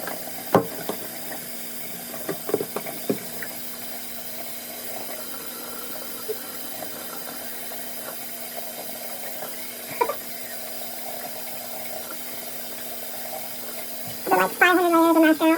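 Tap water runs steadily into a sink for face washing, a continuous low wash with a few brief clinks and knocks, and a louder splash near the end.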